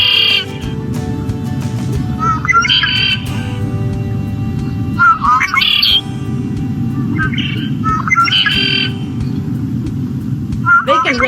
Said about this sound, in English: The red-winged blackbird sings "O-ka-ree."